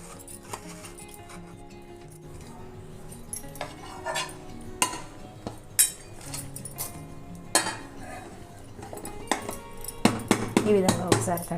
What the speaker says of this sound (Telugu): చాకు తీసుకొని ఒకసారి చుట్టూ కదిలించాలి కేకుని.